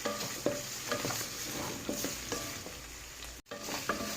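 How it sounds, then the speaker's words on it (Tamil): Onions and drumstick flowers fry in a pan under a continuous soft sizzle, with periodic scraping stirs and light knocks from the spoon. "இதையும் நல்லா கிண்டி விடணும்."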